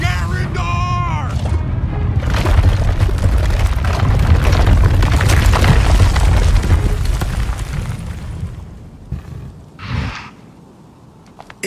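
Bombard explosions in the game Outcast: A New Beginning roar as a loud, sustained rumbling barrage that fades toward the end, with a short shouted voice at the start and a brief cry near the close.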